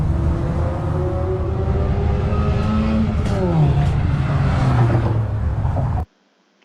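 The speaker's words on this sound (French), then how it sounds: "Vous avez une voiture qui va arriver très vite ici en face." A rally car arrives fast at the Vélodrome, its loud engine climbing with shifting revs and a rising whine as it approaches close, then cutting off abruptly.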